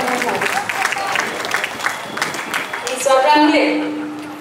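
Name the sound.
audience applause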